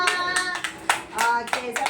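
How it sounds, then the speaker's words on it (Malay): Children in a Malay-speaking classroom lesson applaud, a burst of hand claps running steadily through the moment with a few young voices mixed in. "tepuk tangan untuk Kailan"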